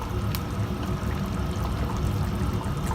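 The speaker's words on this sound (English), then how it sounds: "What I'm going to do is add a little bit, very little hot water" A small amount of hot water poured into a pot of yogurt chicken as it cooks, a steady, close rushing splash that runs without a break for a few seconds.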